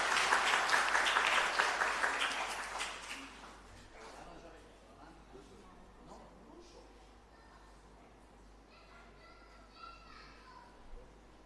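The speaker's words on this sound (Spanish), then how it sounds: "Un fuerte aplauso para él entonces." A church congregation at Mass applauds for a birthday, with loud clapping and children's voices for about three seconds, then a quieter room with scattered voices.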